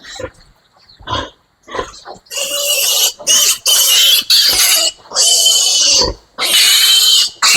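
Piglets squeal loudly and piercingly in several long bursts during a vitamin injection, near the listener, after a few quieter grunts and shuffling sounds.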